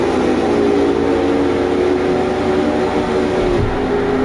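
A race car engine in an Xfinity racing video game at Iowa holds a steady, loud, droning roar with a slight rise in pitch as it accelerates, continuous throughout.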